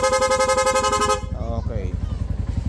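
A loud aftermarket Corsa horn on a Yamaha Sniper 150 motorcycle blares in fast, rapid pulses for about a second, then stops, leaving the idling engine putting along close by.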